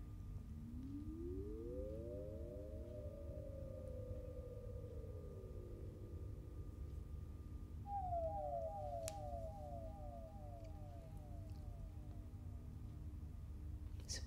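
Faint, eerie electronic tones from a theremin simulator's dark lower register glide slowly upward and then fall, followed by a second wavering sweep higher up; quiet and hollow with no voices.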